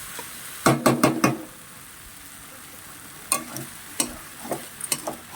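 Vegetables and shrimp are stirred in a frying pan, with short clustered bursts of spatula scraping and clattering over a faint, quiet sizzle, separated by near-silent pauses.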